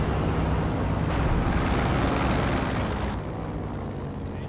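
Recon plane from Company of Heroes 2 droning overhead, a loud continuous engine roar with broadband rumble that holds steady and then eases slightly toward the end.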